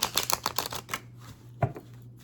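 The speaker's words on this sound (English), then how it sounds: "I'll just give it a little ruffle shuffle" A Deviant Moon tarot deck being riffle shuffled, with a quick, close flurry of crisp card flicks that slows and fades into a few softer taps and one sharper snap.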